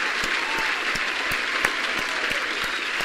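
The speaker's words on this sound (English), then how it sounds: "Let's give chat a round of applause once again" Audience applause at a show's close, a steady wash of clapping with a few sharper claps standing out, lasting the whole stretch without talk.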